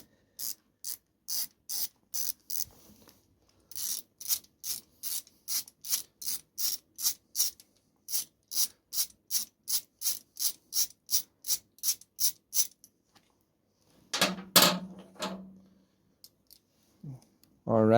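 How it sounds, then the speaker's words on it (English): A small brass brush scrubs residue off a ZRX 1200 engine part in quick rhythmic bursts of short scratchy strokes, close and crisp, pausing briefly before a few louder rubbing sounds near the end. "just clean that off there with a wee bar brush or a wee brass brush"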